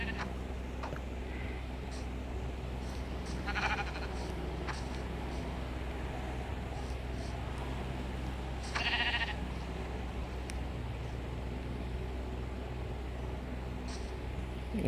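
Sheep bleat faintly in Minecraft, in two short calls about five seconds apart over a steady low game hum.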